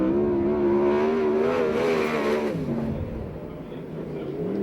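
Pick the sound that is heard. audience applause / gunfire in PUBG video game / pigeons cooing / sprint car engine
sprint car engine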